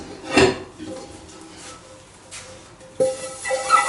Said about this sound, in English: And then we polish the pans and we put them away.